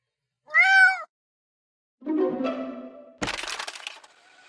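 A cartoon cat lets out a single clear, whining meow, then after a pause comes a rising scuffle and a sharp crack as something breaks, close and loud.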